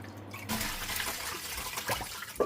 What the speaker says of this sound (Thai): ลุงจะเอาเห็ดมาน็อกน้ำเย็นนะคะน็อกไว้เย็น ๆ เลย